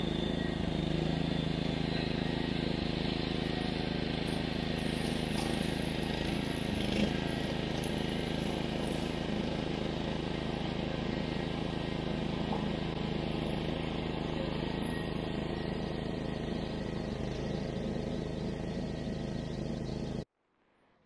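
A Billy Goat brush cutter engine running steadily while tackling huge bushes on a farm, a continuous loud drone with slight surges that holds for about twenty seconds before cutting off abruptly.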